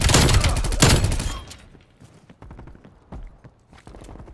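Groza rifle fire from Call of Duty Cold War opens with a loud, dense burst of shots, then gives way to scattered quieter shots and clicks in the background.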